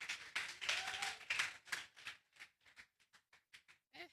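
Audience of primary school pupils at a national environmental debate and speech championship clapping, starting as dense loud applause, then thinning into scattered separate claps that fade toward the end.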